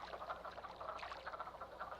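A chorus of mating frogs croaking continuously in rapid, overlapping pulses in springtime Shenandoah, moderately loud and close, with no voices.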